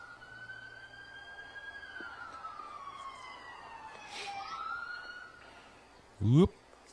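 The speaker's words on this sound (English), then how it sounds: "That was the squad car siren." Police squad car siren wailing faintly in the distance, a steady rising and falling tone running through the whole stretch, followed by a brief loud bump near the end.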